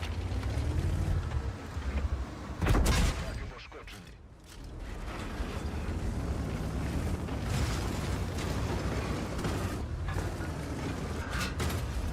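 Tank cannon shots and shell explosions in the World of Tanks video game, with an Object 279 (early) tank in play: a loud, heavy blast near three seconds over constant rumbling battle noise that briefly drops away, then builds again.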